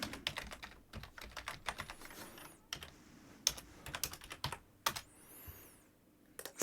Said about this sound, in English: now you have to type in your email address and password